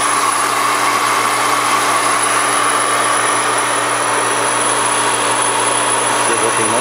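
A Polytron PT 3100 laboratory homogenizer runs at almost 17,000 RPM, giving off a loud, steady high-pitched motor whine with a constant hum beneath it, unbroken throughout.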